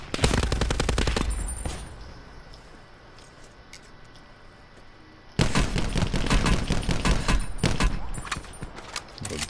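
Call of Duty Blackout automatic gunfire comes in loud, close, rapid bursts at the start, drops to a lull, then returns as sustained rattling fire for the final seconds.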